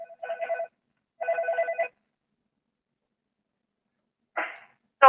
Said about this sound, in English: So of course my phone is ringing.